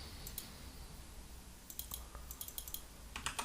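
A computer keyboard is tapped for copy and paste shortcuts, with quiet isolated key clicks at first and then a quicker burst of crisp presses near the end, close and faint.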